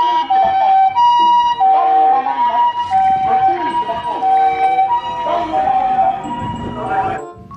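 A toy ambulance's electronic siren blares close and loud in a repeating warbling pattern, joined by a few scattered clicks and faint handling sounds.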